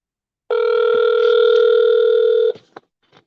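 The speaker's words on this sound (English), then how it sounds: "So I'm going to give him a call." A telephone call being placed: a loud, steady electronic tone holds for about two seconds, then cuts off, followed by a few faint clicks and soft noises.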